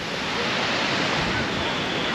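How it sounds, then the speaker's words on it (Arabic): Sea waves roll steadily onto a sandy beach in Vietnam, a continuous broadband surf wash, close and fairly loud, with no pauses or distinct breaks across the stretch. "البحر هو هذا."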